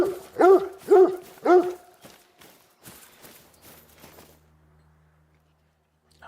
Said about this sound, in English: Let the dog do the hard work.